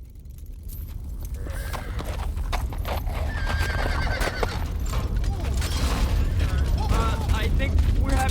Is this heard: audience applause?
no